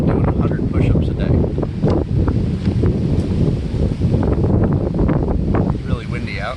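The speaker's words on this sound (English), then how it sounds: "It's really windy out." Strong gusting wind buffets the microphone outdoors, a loud continuous low roar with rustling bursts throughout, while someone talks over it.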